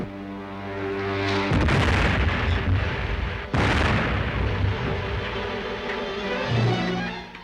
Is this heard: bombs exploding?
yes